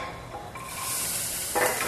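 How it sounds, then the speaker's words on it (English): Onions land in a hot oiled pan and burst into a loud, steady sizzle that swells partway through and flares brighter near the end, with no talking, while pasta sauce with toasted pine nuts and tomato gets underway. "All right, so our pan's nice and hot, and we're just gonna throw in our onions."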